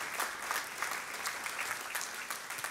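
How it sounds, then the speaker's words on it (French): Church congregation applauding loudly, a dense steady patter of many hands clapping continuously throughout, heard alone without talk. "et que ceux qui le croient applaudissent bien fort."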